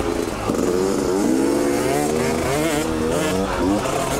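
A Yamaha YZ65 youth dirt bike engine revs as a child rides it through whoops, a buzzy, rising and falling two-stroke drone heard steadily and fairly loud, with a voice talking over it.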